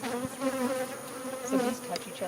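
A swarm of thousands of bees buzzes steadily and close by, a dense droning hum with individual insects flying past and swelling the sound at moments.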